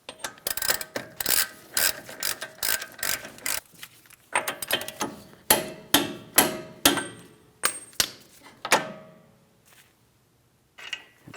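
A ratcheting wrench tightens the outer rear backing plate mounting nut on a 2007-2014 Ford Edge, loud rapid clicking bursts in repeated strokes with short pauses, ending in near silence.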